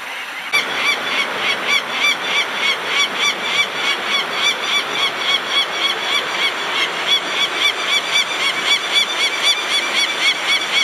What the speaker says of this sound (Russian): Кричат сокола.